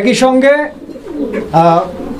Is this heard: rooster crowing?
no